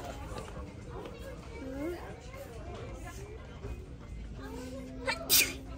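A child sneezes once at a grocery store, a short sharp burst near the end over background store hubbub and scattered voices of a family talking.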